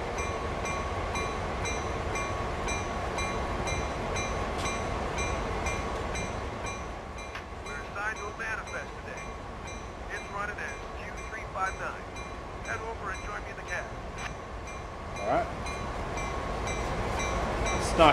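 Freight trains of CSX heavy haul rumble past in the Train Sim World game in ice and snow, a steady low mechanical drone with intermittent clanks and squeals, loud and continuous, with a voice occasionally heard over it.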